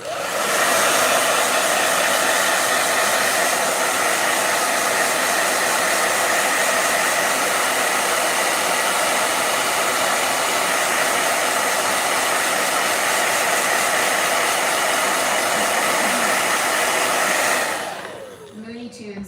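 A handheld blow dryer runs steadily at close range with a loud, even airy roar, holding for about seventeen seconds before cutting off near the end.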